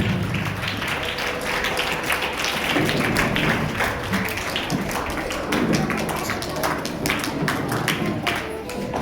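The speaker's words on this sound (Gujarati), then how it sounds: "એમને પણ આપણે જોરદાર તાળીઓથી વધાવશું" Audience at a children's Bal Sanskar Kendra competition event in Jiyapar claps steadily for about nine seconds to welcome guests, a dense continuous patter of many hands filling the hall.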